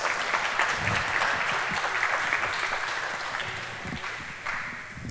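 An audience at a late-night hacker conference talk applauds warmly. The dense, steady clapping lasts the whole stretch and tapers slightly near the end.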